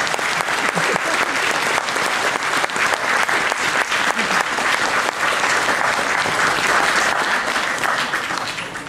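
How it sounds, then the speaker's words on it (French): Loud, sustained applause from an audience at a French competition awards ceremony, dense steady clapping filling the room for about nine seconds before easing slightly at the end. "On applaudit bien fort."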